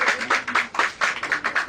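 An audience at a Women's Day celebration at a warehouse in Jammu claps steadily, a quick run of bright claps over two seconds, close and fairly loud.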